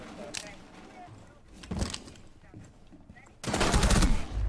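Gunfire in Rainbow Six Siege: scattered sharp shots early on, then a loud sustained burst near the end, with voices talking over the game sounds.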